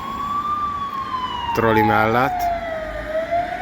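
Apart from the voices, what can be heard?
ambulance siren passing a trolleybus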